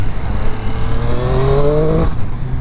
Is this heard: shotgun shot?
no